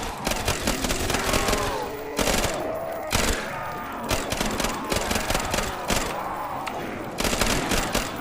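Rapid bursts of gunfire from a powerful weapon in a video game, loud volleys with a few short breaks between them, sharp and repeated over a dense background.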